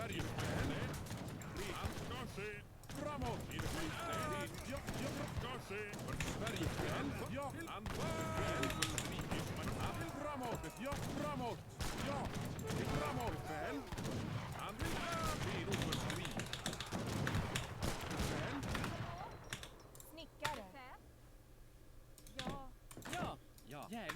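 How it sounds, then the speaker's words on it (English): Musket volleys from skirmishers and musketeers in an Age of Empires III: Definitive Edition battle crackle repeatedly in the background, mixed with busy computer keyboard clatter and someone talking throughout. "Gonna shoot out those skirmishers."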